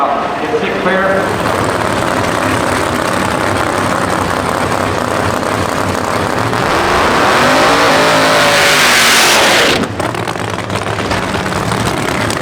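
PDRA drag racing cars, including big-block engines of 906 and 973 cubic inches, roar loudly as they accelerate down the strip, a sustained high-powered engine scream that builds and then cuts off abruptly near the end.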